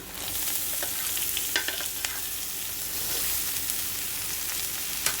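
Chopped onions hit a hot pan for ulli theeyal and fry, a steady close sizzle with scraping stirs and a few sharp clicks of the spoon against the pan.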